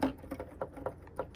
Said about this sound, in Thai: คีย์บอร์ด